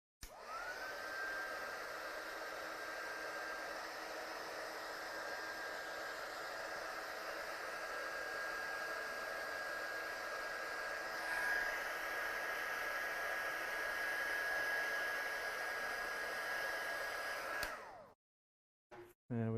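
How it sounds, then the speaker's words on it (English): A heat gun blows over coloured card characters with a steady, loud whooshing roar and a faint whine, running continuously for many seconds before cutting off abruptly, followed by a couple of brief clicks. "I'm going to give them a quick blast with the heat gun"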